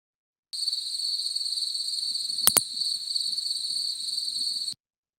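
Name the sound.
pallid bat echolocation call, a double click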